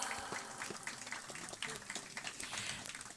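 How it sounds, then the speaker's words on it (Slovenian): Gathered hikers applaud at an outdoor Youth Day hike to Navrški vrh organized by the Ravne tourist society; the clapping is faint and distant, a steady dense patter lasting throughout. "En aplavz."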